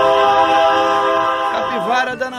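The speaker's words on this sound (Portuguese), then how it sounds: "Olha o trem!" Train horn sounding loud and sustained nearby, a steady harmonic blast that wavers and fades at the end, with a voice calling out over it.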